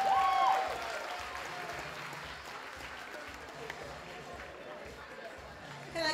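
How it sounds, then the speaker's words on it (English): A school play audience applauds the young performers, a steady, fairly faint wash of clapping with chatter and voices underneath that tapers off toward the end. "But give them a round of applause."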